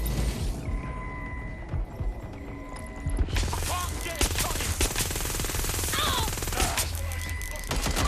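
Shotgun blasts and other gunfire ring out in the video game Watch Dogs Legion, a rapid series of sharp reports over a busy game soundscape, with a brief voice in the mix.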